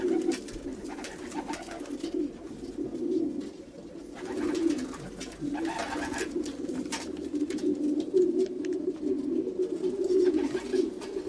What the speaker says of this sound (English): the sky was full of feathers and flapping wings. The racing pigeons were racing.